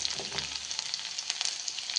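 Crushed garlic sizzles and crackles in hot coconut oil, where mustard seeds have just popped, with a dense, steady frying hiss close up and no talking.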